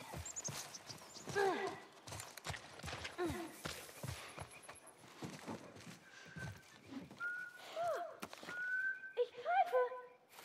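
Ellie whistles in The Last of Us Part I, short tonal whistled notes rising and falling near the end, mixed with footsteps, movement noises and scattered game sounds throughout.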